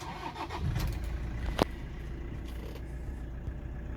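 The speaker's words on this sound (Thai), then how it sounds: "เดี๋ยวผมจะสตาร์ทเครื่องนะครับ" A 2013 Toyota Hilux Champ pickup with a 2.5 VN turbo diesel cranks and catches with a sharp click, then settles into a quiet, steady idle heard from nearby.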